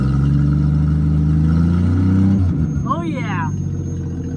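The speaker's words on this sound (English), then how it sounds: "Rev it up just a hair." A Studebaker engine, 65,000 miles on it and running for the first time in 30 years, idles loudly and steadily close by, then eases off partway through while someone speaks briefly over it.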